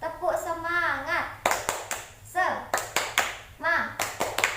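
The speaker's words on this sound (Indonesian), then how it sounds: "Kita coba ya. Tepuk semangat." Primary school class and teacher clapping a short spirited rhythm in sharp bursts of several claps each, alternating with children and an adult chanting, close and lively in a classroom.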